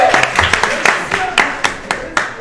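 Applause for Angel and Enzo at a St Just children's club event, a small group clapping close by with uneven, scattered claps and voices talking over it.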